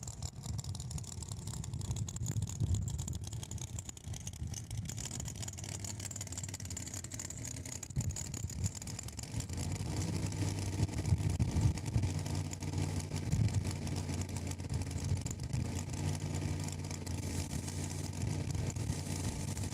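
A drag racing car at Saskatchewan International Raceway on a testing day idles and revs in a low, rumbling drone, heard from a distance with a rise in engine intensity midway through.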